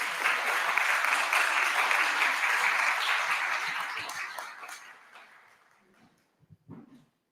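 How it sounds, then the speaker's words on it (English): A hall audience applauds a college choir at a Black History convocation, steady and loud clapping for about five seconds before it fades out, with a few scattered claps at the end. "let's give it another round of applause to the Golden Voices"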